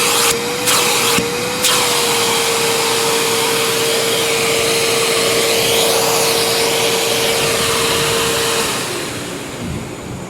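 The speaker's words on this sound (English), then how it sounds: "Oh, it's a vacuum!" A Ferrex Aldi 4.0 peak HP 6-gallon wet/dry vacuum runs loud and steady, with a constant motor whine and broadband airflow roar, then winds down near the end; brief clicks at the start.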